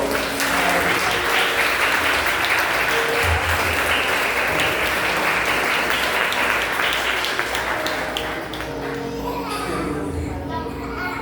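A church congregation claps loudly, children and other voices mixed in, the applause holding strong before thinning out toward the end.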